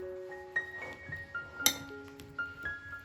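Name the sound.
spoon stirring banana chaat with lemon juice and spices in bowl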